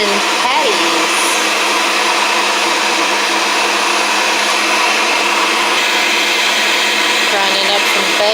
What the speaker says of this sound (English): grinding fresh pork, fresh kind of frozen pork, to make some sweet onion patties